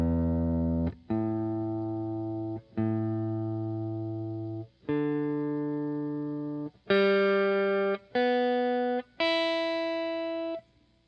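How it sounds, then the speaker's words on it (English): An electric guitar with distorted effects sounds seven sustained single notes one after another, each ringing out and decaying before the next, rising in pitch across the sequence as tuning is checked. "I'm gonna check the tuning one more time because it sounds a little funky"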